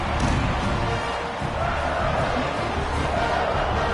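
Football stadium crowd at a Clemson versus Oregon game cheering after a Clemson touchdown, a loud, dense and sustained roar of many voices that fills the whole stretch without a break.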